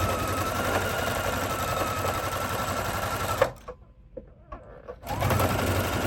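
Sewing machine stitching fabric while upcycling clothing, a steady fast whirring run that stops abruptly for a second or so with a few small clicks, then resumes at full speed.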